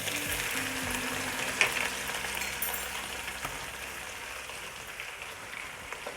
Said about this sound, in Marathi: तेल गरम झाल्यानंतर दोन चमचे आलं लसूणची पेस्ट टाकते